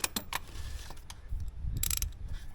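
A socket ratchet tightens a bolt on a 2002 Ford F250, giving quick clicking bursts of pawl ticks, up close, between short pauses.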